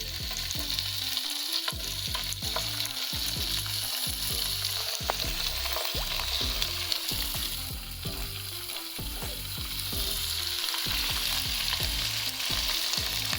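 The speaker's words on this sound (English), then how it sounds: "And we're gonna go ahead and put the meat on there." Beef sizzles steadily in hot cooking oil in a pan, a dense, loud frying hiss broken by repeated scraping stirs, close up and with no talk.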